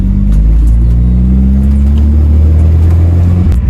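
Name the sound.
Hyundai Avante car engine driving and accelerating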